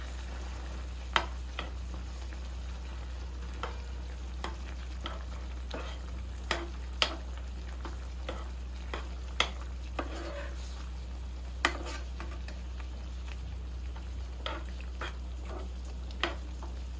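Chicken butter roast frying in a pan while being stirred, a steady sizzle under repeated sharp scrapes and clinks of a utensil against the pan, close and continuous.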